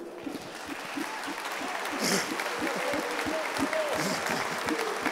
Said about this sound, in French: Un champion du monde, on peut l'applaudir quand même.